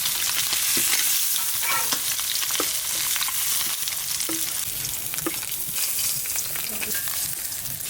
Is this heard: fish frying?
yes